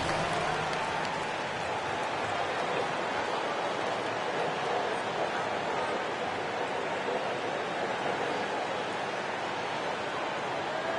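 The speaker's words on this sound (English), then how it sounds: "applause." Steady, dense crowd applause from an arena audience in the basketball video game NBA 2K25, a continuous even roar of clapping holding at constant loudness throughout with no voices standing out.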